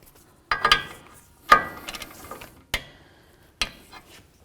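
A ratchet tightens a castle nut on the tie rod stud of a 2008–2012 Jeep Liberty. About four separate bursts of quick metallic clicking come close up, with short quiet gaps between them.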